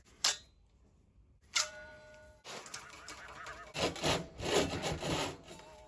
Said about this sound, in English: I'm going to use this cranked handle Parkside pull saw